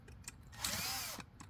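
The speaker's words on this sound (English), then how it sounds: "drill out the rivets" A power drill bores out metal rivets on an RV Suburban furnace exhaust pipe, a single loud whining burst of about half a second rising and falling, with quieter clicks and handling noise before and after.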